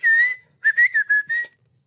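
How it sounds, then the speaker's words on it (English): A Hadzabe person in Tanzania whistles to communicate over distance: one long clear whistled tone, then a quick run of four or five short pitched bursts, bright and prominent against a quiet background. "So they communicate from distances by whistling."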